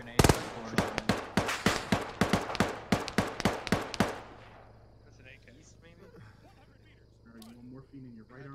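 AK rifle fire in the Arma 3 military shooter, about a dozen sharp, loud, evenly spaced shots over four seconds, followed by quiet ambience with faint voices talking.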